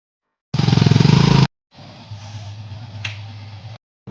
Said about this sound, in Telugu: ఈ బైక్ మీద అయితే స్టార్ట్ చేయబోతున్నా రైడ్.